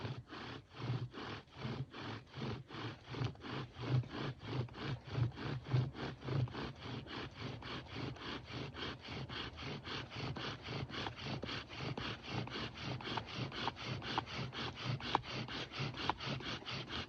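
Rapid, steady back-and-forth rubbing of a bow drill on wood, a rasping scrape repeating many times per second, close and continuous with no talking.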